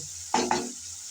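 Green chillies and tomato stirred into a frying pan of well-cooked masala for a shrimp dish, two quick scraping strokes over a faint sizzle, brief and close.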